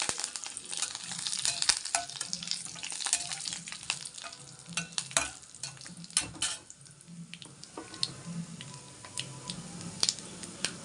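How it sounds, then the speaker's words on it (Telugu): Curry leaves crackle and sizzle in hot oil alongside lentils while tempering for a sesame mango pickle, with steady spattering, a spoon stirring and scraping against the pan, and occasional sharp pops. "కరివేపాకు వేసేస్తాను."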